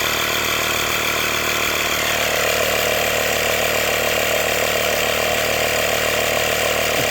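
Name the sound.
Hyper Tough tire inflator pumping up bike tires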